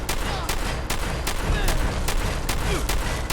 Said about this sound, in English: Shotgun I just use for fun.